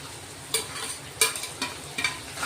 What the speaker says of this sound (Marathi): तर आपण आता टोमॅटो टाकून घेऊ।